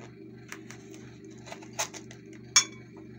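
Cake being cut at a home table, with cutlery and dishes giving sparse light clinks and taps, one sharper clink near the end, over a steady low room hum.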